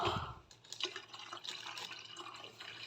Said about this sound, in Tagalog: Lagyan ko na ng tubig dito.